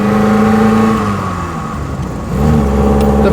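A 1930s Lancia Aprilia engine through a downshift, a loud close mid-pitched drone that dips as revs fall, then swells back up as the car pulls again.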